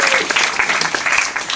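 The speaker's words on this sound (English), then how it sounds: "so first off, round of applause" Convention crowd applauding at a fan panel, a dense wash of many hands clapping close and loud, steady throughout.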